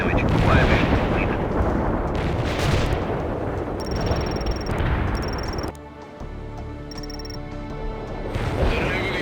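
Artillery strike in the real-time strategy game World in Conflict, a dense rumbling barrage of booms and crashes lasting throughout, loud and continuous, with radio-style unit voices and electronic beeps layered over it.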